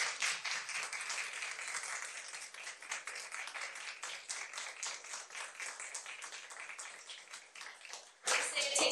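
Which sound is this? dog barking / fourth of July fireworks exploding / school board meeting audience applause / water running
school board meeting audience applause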